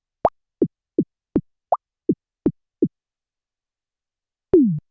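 A series of short, bright plopping blips in a quick irregular run, followed after a pause by a longer descending tone, like cartoonish mobile game sound effects.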